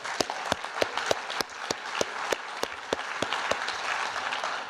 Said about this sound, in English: we'd love to give you another round of applause